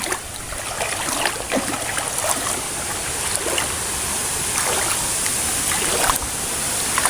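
A clear creek flows steadily nearby, a constant bright rushing and trickling with faint splashy accents that continues throughout, with no talk.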